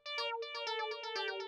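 A bright synth lead in a futuristic techno style plays short spaced notes through a dotted-eighth delay with high feedback, each note echoing and ringing out into the next, clear and isolated.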